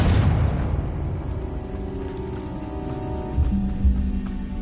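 Bombarda and Confringo spell explosions in Hogwarts Legacy: a loud blast opens and fades into a rumbling tail, followed by a couple of softer thuds under a humming game soundtrack.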